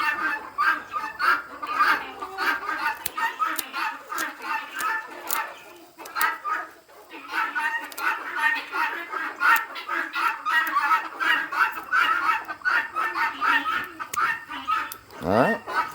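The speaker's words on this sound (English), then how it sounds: "Oh, it's a rooster." Chickens cluck and a rooster calls close by in a free-range poultry area, with repeated short clucks and squawks coming in bursts over sixteen seconds alongside scuffling.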